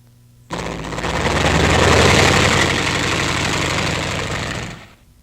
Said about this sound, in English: Then the LVT can be driven out from beneath the skid.